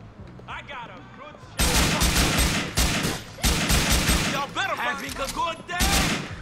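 AK rifle fire in Grand Theft Auto IV rips out in loud, dense bursts of rapid shots with short pauses between volleys, while a voice talks briefly at the start and again midway.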